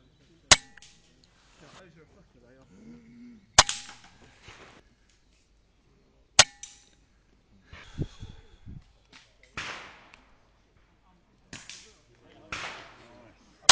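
Air rifle shots fired at hunter field target knockdowns, about five sharp cracks spaced several seconds apart, each followed by a faint metallic target response, with quiet talk between shots.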